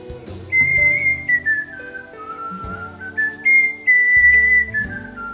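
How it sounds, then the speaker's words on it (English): A person whistles through the tongue: a clear, melodic whistle sliding through a wavering tune, with soft musical accompaniment underneath; close and steady for several seconds. "But also I can whistle through my tongue."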